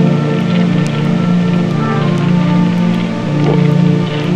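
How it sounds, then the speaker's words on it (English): Rain falls in a steady, even hiss with occasional sharper drop taps, loud and continuous throughout. "It's still raining."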